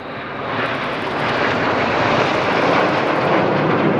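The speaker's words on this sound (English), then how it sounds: "aircraft slowing now only to 120 miles an hour" Red Arrows jets flying in display formation at RIAT 2025, a broad continuous roar of engine noise that slowly swells and stays loud, with no voices.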